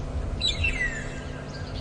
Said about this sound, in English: Lots of bird activity at the moment.